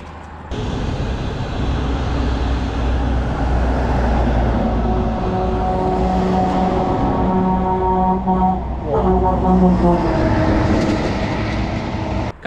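A train runs along the railway beside Hualin town in Longxi County, Gansu, with a loud, steady close rumble and rhythmic rail clatter that carries through the whole stretch without any talk.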